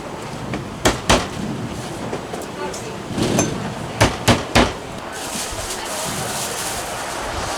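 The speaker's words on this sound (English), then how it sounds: "it's better to smash all of them first, get them primed" Garlic cloves being smashed in a moving tour-bus kitchen: a handful of sharp thuds land in small clusters over a steady rumbling road noise, with some sounds of the cook moving around between them.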